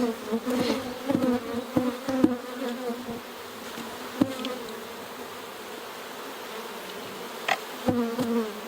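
Honeybees on a hive frame give off a steady, close droning buzz, with occasional sharper knocks from the frame being handled and no voices.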